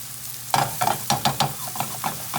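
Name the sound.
mushrooms frying in a pan for egg drop soup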